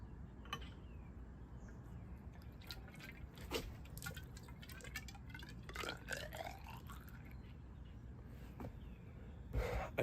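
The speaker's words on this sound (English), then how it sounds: "Now I'm going to pour water down the barrel." Water poured down the barrel of a flintlock rifle during cleaning, a soft, steady trickling and dripping with small splashes and gurgles, quiet and close, with no talk.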